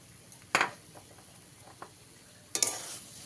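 Chili is being stirred into a cabbage bharta mash in a pan: a spoon scrapes and knocks twice against the metal with clear clanks, under a soft, steady sizzle and faint stirring.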